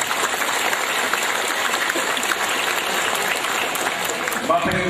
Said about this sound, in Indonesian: Oleh sebab itu tepuk tangan untuk Abah Mali.